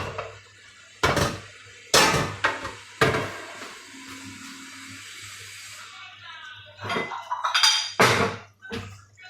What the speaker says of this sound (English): Alright, so I'll take the lid off that.